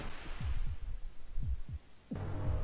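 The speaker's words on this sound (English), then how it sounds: "So like this heartbeat." A low, throbbing heartbeat from the side-scrolling brawler Castle Crashers, pulsing in paired thumps, steady and moderately loud, with a humming game backdrop and a brief louder burst near the end.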